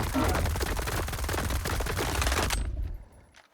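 Rapid automatic rifle fire from an AKM-74S or AR-416 in the video game STALKER 2, a loud continuous burst of close shots that cuts off abruptly near the end, leaving a faint tail.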